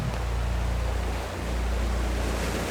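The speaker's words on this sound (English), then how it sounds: "Can you hear the water stream on one side? Perhaps the waves" Steady broadband rush of ocean waves on a beach with flowing water, a continuous and fairly loud wash with a low rumble underneath and no voices.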